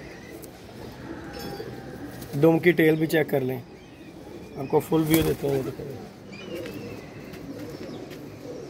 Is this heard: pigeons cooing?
yes